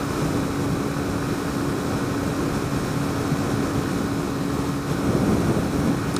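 A Suzuki GSX-S125 motorcycle cruising at about 60 mph, its steady engine drone mixed with heavy wind rush, continuous and loud throughout with a slight swell near the end.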